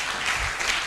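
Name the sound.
audience applause at orientation ceremony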